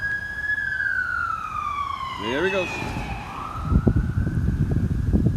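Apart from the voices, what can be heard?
sirens approaching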